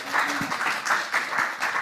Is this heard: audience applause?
yes